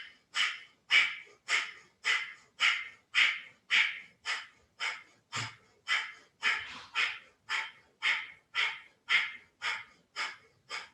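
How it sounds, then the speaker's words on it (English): Kapalabhati yoga breathing: a rapid, even series of about twenty sharp, forceful exhales through the nose, each a short puffing snort at a steady rhythm, close and alone. "This is Kapalabhati breathing."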